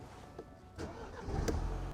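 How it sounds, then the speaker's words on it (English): A car engine cranks and fires up, a brief starter whine followed by a low, steady rumble settling in nearby, with no talking. "let me start the car first"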